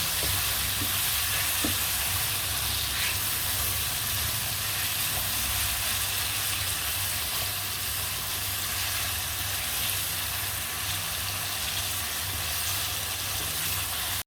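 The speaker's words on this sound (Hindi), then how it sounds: "हमने अच्छे तरीके से इसकी भुनाई कर लेनी है कि जब तक हमारे टमाटर सॉफ्ट ना हो जाए।" Tomatoes roasting in a pan for an arvi and baingan curry give a dense, unbroken sizzling hiss that holds evenly for the whole stretch, close-up and alone, with faint scrapes of a stirring spoon now and then.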